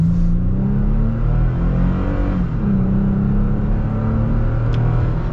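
Engine noise from a 2023 Toyota Tacoma TRD Pro pulls steadily under acceleration for several seconds, with a mid-pitched drone whose tone climbs slightly, heard from inside the truck.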